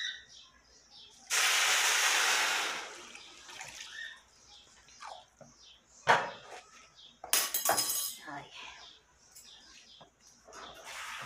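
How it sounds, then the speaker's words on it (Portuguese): Rice poured into a hot pan and sautéed: a loud, bright sizzling rush bursts up for a second or so, then settles into scattered clinks, scrapes and softer sizzle, with someone talking quietly in between. "Agora, eu vou colocar aqui o arroz."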